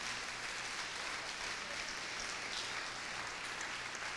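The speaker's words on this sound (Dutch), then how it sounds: "je mag de Heer een applaus geven" Church congregation applauding during a sermon, a dense, even patter of many hands clapping at once, heard from a moderate distance and sustained without a break across the moment, with no voice over it.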